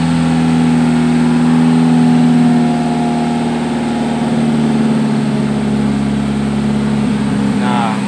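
A Suzuki Ertiga engine runs at a steady mid-pitch hum during a tuning fluid treatment at night, with a slight unevenness to the note. The sound is close and continuous.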